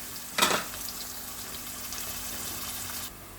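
Chopped onions fry in hot oil for a potato and egg curry, a steady close sizzle that starts with a brief louder burst and holds evenly for about three seconds before cutting off.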